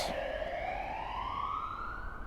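An emergency vehicle siren wails steadily in Cardiff Bay, its tone slowly rising, loud but somewhat distant over low traffic rumble.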